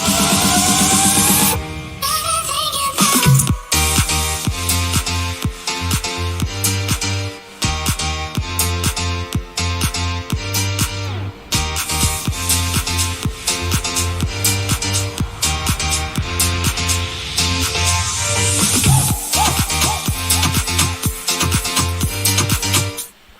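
A loud electronic track with repeating piano chords over punchy beats, dropping out briefly before building back up; no voices.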